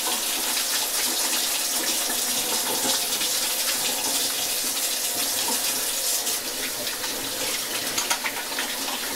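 Cold tap water gushes steadily into a sink as butter is rinsed off hands while making Tibetan torma, a continuous splashing flow with small spatters toward the end.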